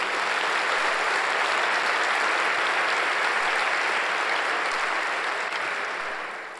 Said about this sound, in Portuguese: Dá um aplauso ao Senhor por isso.